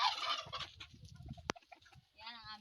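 A backyard turkey gobbles in a rapid rattling burst, followed by a sharp squawk and a second warbling gobble, fairly close, against a quiet outdoor background with no talk.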